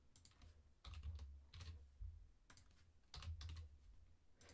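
Computer keyboard keys pressed while editing layers in animation software, with clusters of crisp, close clicks arriving in irregular bursts and short pauses between them, with no talking.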